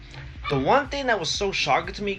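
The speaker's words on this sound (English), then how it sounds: "You guys can hear my dogs barking in the background." Dogs barking in the background of a home, yips and whimpers mixed in, heard faintly and repeatedly beneath someone talking continuously in the foreground.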